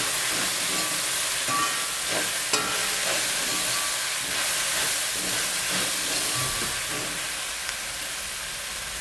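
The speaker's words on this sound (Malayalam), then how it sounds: "ഇനി നമുക്കിത് നന്നായിട്ട് ഇളക്കാം." Salted food is stirred in a hot pan, a continuous sizzling hiss with soft scraping and clinks from the stirring running steadily throughout.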